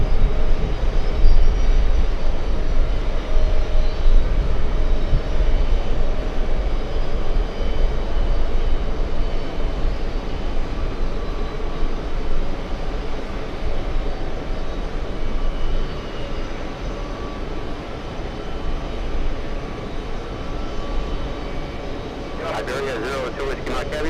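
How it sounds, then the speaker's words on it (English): An Airbus A350-1000 airliner landing at JFK produces a loud, sustained broadband jet roar. It fills the whole stretch and eases slightly toward the end, with radio chatter faintly in the background. "We have the A350 1000 landing up."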